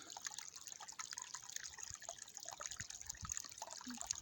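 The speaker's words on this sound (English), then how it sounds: "this morning I started to fill it out with water" Water trickles and drips steadily as a newly dug natural swimming pond with a bentonite seal is being filled, a faint, continuous liquid wash with light splashy detail and no talking.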